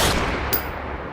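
A single sharp gunshot effect in a Hindi horror audio drama, a loud crack with a bright burst that quickly fades.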